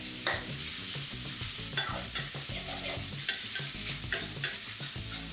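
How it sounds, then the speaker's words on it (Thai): Minced pork and chopped garlic stir-frying in hot oil for a cabbage and glass noodle dish, a steady close sizzle with repeated spatula scrapes and stirring knocks throughout. "เนื้อหมูบดนะครับเอาลงไปผัดจนเริ่มสุกนะครับ"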